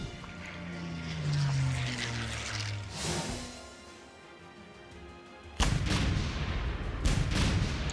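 Artillery fire in a Stalingrad strategy war game set at Mamayev Kurgan: a heavy rumbling barrage swells, fades, then erupts again in loud booming blasts that continue steadily to the end.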